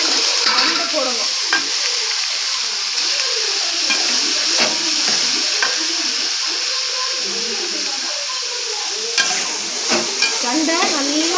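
Vegetable stems fry in a pan with a dense, steady sizzle and hiss, while a utensil scrapes and stirs in irregular strokes, close and loud throughout about eleven seconds.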